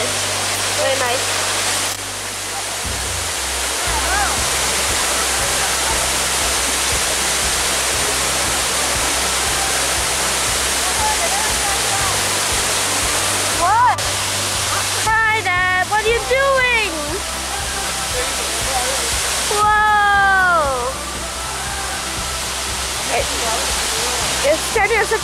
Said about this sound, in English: it's falling off the mountain, so it's considered a waterfall, and I like waterfalls